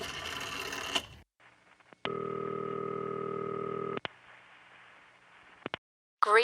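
A telephone call placed on a landline: a short burst of noise, then a steady electronic ring tone sounds for about two seconds, followed by a quieter line hiss with clicks and a brief tone at the end.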